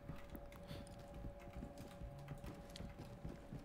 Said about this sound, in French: Y'a des bruits de pas bizarres